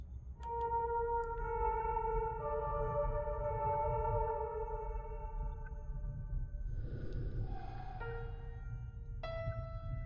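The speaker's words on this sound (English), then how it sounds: "Play the piano by following the notes." Piano notes played in the video game Fatal Frame 4: Mask of the Lunar Eclipse, a few slow, sustained tones ringing one after another over a low steady background hum, fairly quiet and without talking.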